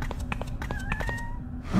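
A cat meows inside the horror video game The Coma 2: Vicious Sisters, a short plaintive call set against steady low game ambience and background music.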